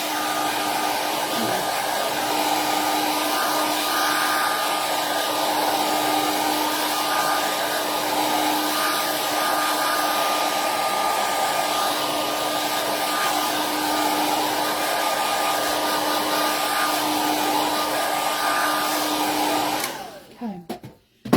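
A hair dryer blows steadily on a pink vintage bunny craft, a continuous close whir with a fixed tonal hum that runs unbroken for about twenty seconds, then cuts off with a few handling clicks at the end.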